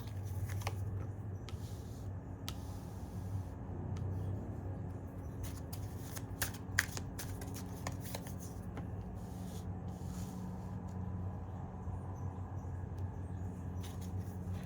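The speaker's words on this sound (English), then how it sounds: "So now I'm going to pull a few cards here" Tarot cards being shuffled and drawn from a deck, giving a soft, steady papery rubbing and shuffling with occasional crisp snaps, close and quiet, with no talking.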